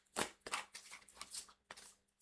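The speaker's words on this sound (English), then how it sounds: "as I shuffle these cards" A deck of tarot cards is shuffled by hand in quick riffling bursts: a sharp flurry, a few softer rustles, then another burst. Close and faint, with no talking.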